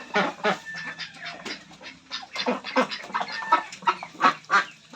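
Hens in a backyard flock clucking and squawking close by, a busy run of overlapping calls rising and falling over several seconds, with a faint voice now and then.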